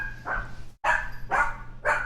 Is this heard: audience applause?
no